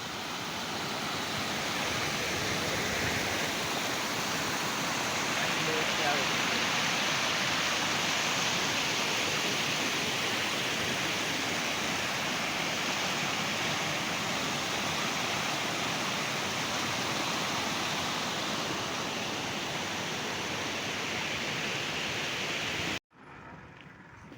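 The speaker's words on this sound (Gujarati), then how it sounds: "સરસ મજાનું પાણી જઈ રહ્યું છે" Steady rushing water flows continuously and loudly, a broad unbroken roar with no voices, cutting off abruptly near the end.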